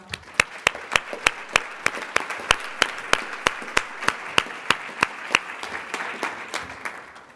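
A convention audience claps in steady rhythmic unison for student arts award winners at a state PTA general session, loud and close, with sharp, evenly spaced beats running throughout.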